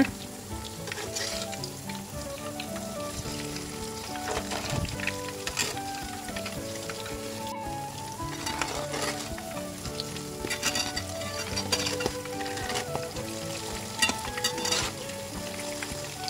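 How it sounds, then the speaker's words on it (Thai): Tuna fish cakes made with canned fish and betel leaves fry in hot oil, giving a dense, continuous crackling sizzle with small pops throughout and no voices. "ทอดมันสุกก็ค่อยๆกลับด้านนะคะ"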